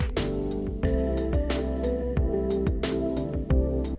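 Punchy drum groove with sharp layered claps and heavy impact hits landing on the beats, loud and dense, no voices.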